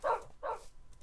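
A wolf barks twice in Minecraft, two short, quiet yaps in quick succession followed by a brief soft whine.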